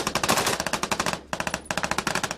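Rapid bursts of machine gun fire during a firefight in Afghanistan, loud and close, with a steady rattle of shots, a brief pause, then another sustained burst.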